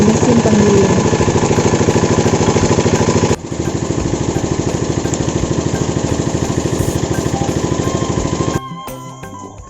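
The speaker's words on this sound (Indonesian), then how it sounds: "lalu digiling dengan mesin penggiling" A soybean grinding machine in a tofu factory runs loudly and steadily, a close mechanical drone with a rapid regular pulse that drops slightly in level partway through before cutting down near the end.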